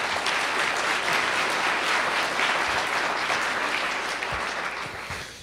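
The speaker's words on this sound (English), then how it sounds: "Can we give them folks just a quick round of applause as well?" A large crowd applauds the practitioners and funders at a public event with the mayor of Sacramento, a loud, dense, steady round of clapping that fades slightly near the end.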